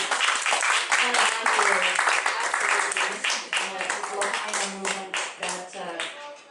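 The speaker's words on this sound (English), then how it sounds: "why don't we just give a really warm round of applause to this gentleman right here" A warm round of applause from a gathered audience for a gentleman: loud, dense, close clapping that runs continuously, a few voices mixed in, tapering slightly toward the end.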